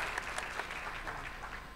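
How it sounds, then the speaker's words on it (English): An audience applauds at the close of a public astronomy talk, a brief burst of dense, even clapping that fills the room at close range. "let's applaud"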